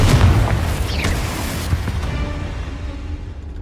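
Confringo fire spell exploding in Hogwarts Legacy, one loud booming blast at the start that rumbles and slowly fades with crackling debris, no voice over it.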